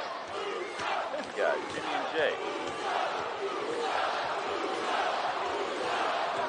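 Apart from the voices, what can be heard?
wrestling crowd cheering for the Usos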